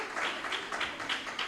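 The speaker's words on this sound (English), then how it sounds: "I think she gets an extra clap." A brief burst of audience clapping for a speaker at a property sector research colloquium, several pulsing waves of moderate hand claps heard from across a hall, fairly soft and short.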